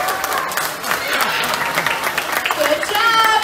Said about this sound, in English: let's give Oscar a round of applause